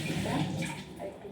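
Running water splashes over chopped ginger being rinsed in a kitchen, a short steady gush close by with no talking.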